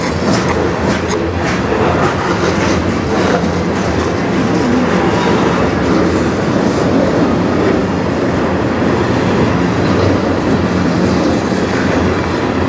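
A CN mixed freight train led by an ET44AC and an SD75I locomotive rolls steadily past close by, a loud continuous rumble of wheels and cars with rhythmic clickety-clack and faint squeal throughout.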